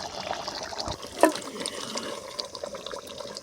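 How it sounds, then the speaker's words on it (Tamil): Country chicken curry being poured from one pot into another, giving a steady liquid splashing and trickling with a brief clatter of the vessel partway through, close and continuous. "குழம்பு வேறு பாத்திரத்தில் மாற்றிக்கிறேன்."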